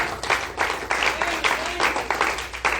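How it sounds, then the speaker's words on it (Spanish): Bursts of clapping and applause from a church congregation swell and fade in repeated waves, fairly close and loud. "Denle un aplauso al Señor."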